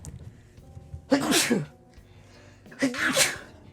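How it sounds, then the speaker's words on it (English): Two sneezes from a person seated at a computer, each a sharp breathy burst close to the microphone, about a second and a half apart, with quiet background between them. "I need to sneeze."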